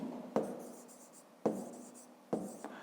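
Handwriting on paper for a fifth-grade math exercise, three distinct pen strokes or taps each followed by a short scratchy trail of writing, close and quiet with no talk.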